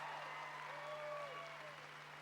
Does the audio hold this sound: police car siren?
no